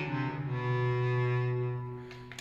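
A Roland Aerophone mini AE01 digital wind instrument plays its saxophone voice: one sustained, reedy tone held for about two seconds, close and clear, then fading slightly at the end.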